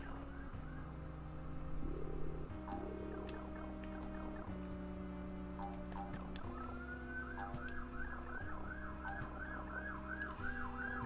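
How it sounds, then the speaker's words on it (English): Wailing sirens from Super Mario World 2: Yoshi's Island game audio, a steady faint musical loop with rising and falling siren-like tones repeating throughout. "Sorry if you can hear that cool ambulance in the background."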